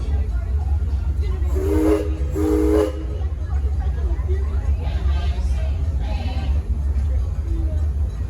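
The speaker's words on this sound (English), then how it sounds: "Please don't be getting up until we've heard that one short whistle." A loud steam train whistle gives two short blasts over a low rumbling hiss, followed by people talking, aboard the Six Flags & Texas Railroad theme park train.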